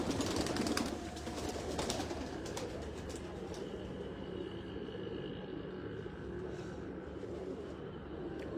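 Pigeons, champion high-flying birds kept in Faisalabad, coo softly against a steady rumbling outdoor background, with a slightly louder burst at the very start.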